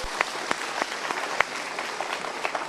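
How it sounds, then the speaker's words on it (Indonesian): Applause from a seminar audience at a Mario Teguh motivational talk: a close, lively stream of clapping with scattered sharp individual claps, steady for a few seconds. "Ya, kita berikan tepuk tangan untuk beliau."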